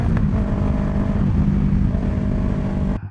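Yamaha R3 motorcycle cruising on the road, a steady loud engine drone mixed with wind rush that holds evenly for about three seconds before abruptly dropping away.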